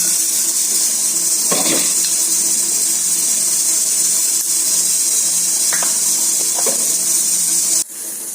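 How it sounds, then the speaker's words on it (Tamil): Mustard seeds splutter in hot oil while tempering for a ladies finger (okra) stir-fry. A loud, constant hissing sizzle is broken by a few sharper pops, and the sizzle drops off abruptly near the end. "எண்ணெய் காஞ்சிருச்சு. கடுகு போடுறேன்."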